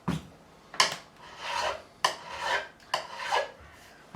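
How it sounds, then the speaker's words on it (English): Guitar frets on a Gibson ES-335 are sanded with 400 grit abrasive during a fret level, producing three close, gritty rasping strokes, each starting with a sharp scrape and fading out. "this time we're going to go with 400 grit, and we're going to keep going until the frets are all silver topped"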